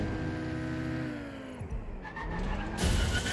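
A car in the video game Watch Dogs: Legion, set in London, drives with a steady engine drone and then skids, tires squealing loudly at the end.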